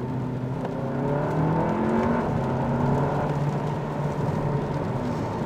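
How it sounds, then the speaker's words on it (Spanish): Volkswagen Arteon engine in Sport mode revving up after a downshift, a smooth rising drone heard from inside the car, steady and moderately loud with no talking. "Vamos a reducir una marcha."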